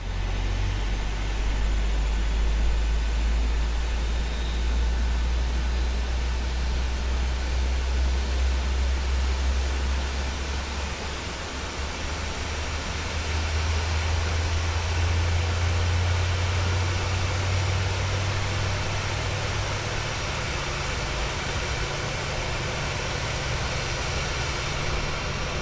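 An airliner jet engine starts up in Microsoft Flight Simulator as a steady, loud broadband roar over a deep low rumble, holding through the whole stretch with a brief dip midway and no talking.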